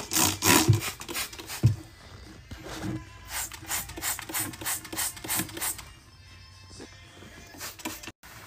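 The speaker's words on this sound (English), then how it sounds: "My pumice stone ran out more quickly than I expected, so I didn't finish scraping out the inside." A pumice stone scrapes and rubs against the inside of a toilet bowl in repeated close, rasping strokes of varying loudness, with the scraping thinning out toward the end.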